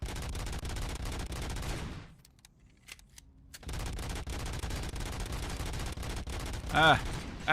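Enemy gunfire in a video game: sustained loud rattling shots that drop out for about a second and a half, then resume in dense bursts along with game effects.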